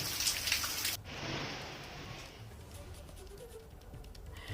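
Heavy monsoon rain pours down in the hills of Vikasnagar, Uttarakhand, a loud, steady wash of drops hitting surfaces that drops slightly in level partway through and then keeps falling without a pause.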